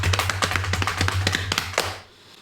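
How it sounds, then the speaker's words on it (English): Quick, steady run of percussive foot stomps with a low hum beneath, roughly a dozen hits in a row before stopping; close and fairly loud, no talking. "So do a little stomping."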